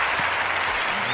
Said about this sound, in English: We want to give a round of applause